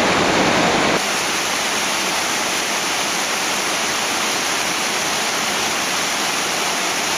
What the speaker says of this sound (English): Can't really hold much of a conversation because of the roar of the water.